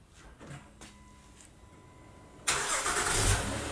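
A 2015 Honda Odyssey fitted with a remote starter cranks and catches after a few faint clicks, jumping into a loud, steady idle that holds to the end.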